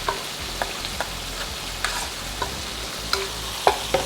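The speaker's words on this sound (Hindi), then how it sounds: "इसको डाल के तुरंत चला देंगे तो थोड़ा उड़ता है। तो इसे चलाते रहना होगा" Spices frying in a hot pan for Bihari fish curry are stirred with a spoon, giving a steady sizzle broken by a series of short scraping strokes, close and moderately loud.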